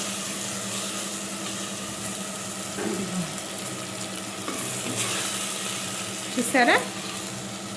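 Chicken curry fries in a clay pot with a steady, loud sizzle throughout, broken by a few stirring scrapes, and a voice briefly speaks over it.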